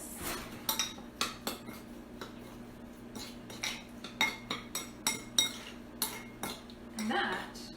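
Salsa of tomato and lime juice stirred in a bowl, giving a run of light clinks and scrapes of a utensil against the dish at an irregular pace, with a steady low hum underneath.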